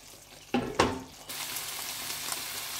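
Koftas frying in oil over a medium stove flame, with a couple of sharp stirring clanks early on followed by a continuous, even sizzle.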